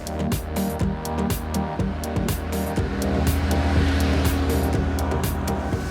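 A Porsche sports car engine rumbles loudly and steadily, with deep harmonic tones and rising revs, close by and continuous with no talking, near the Porsche Museum in Stuttgart, Germany.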